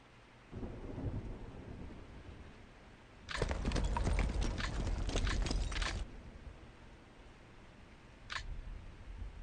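Thunder rolls in the Steel Panthers: World at War war game: a faint rumble, then a loud cracking roll lasting about three seconds, followed by a brief sharp crack near the end.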